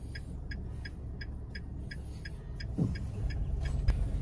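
A Toyota manual-transmission car on an uphill practice drive, its engine a low steady rumble from inside the cabin. Faint regular ticking runs through it, and the rumble swells toward the end.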